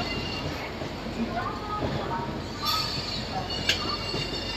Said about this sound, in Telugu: మన ట్రైన్ అయితే విజయవాడ జంక్షన్ నుండి అయితే స్టార్ట్ అయిపోయిందండి.